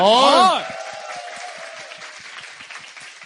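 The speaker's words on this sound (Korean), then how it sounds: "여러분 다시 한번 좀 큰 박수 부탁드리겠습니다." Studio audience applause on a Korean talk show, fading after a loud opening moment of speech and continuing as a softer, steady patter of clapping under a light bed of room noise.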